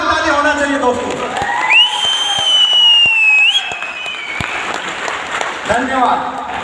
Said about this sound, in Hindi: एक बार अपने लिए जोरदार ताली होना चाहिए दोस्तों।